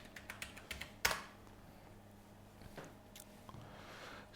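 Quiet, close keystrokes on a computer keyboard: a quick flurry of light taps, one sharper press, then a few scattered clicks after a pause.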